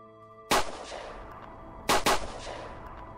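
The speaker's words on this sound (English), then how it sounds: "I can't tell if I'm able to shoot through the fence or not." Gunshots ring out in a video game: one sharp, loud crack, then about a second and a half later two more in quick succession, each with a short ringing tail.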